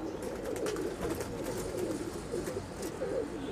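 Teddy pigeons coo in a loft, a steady low murmur of overlapping soft calls close by, with no one talking.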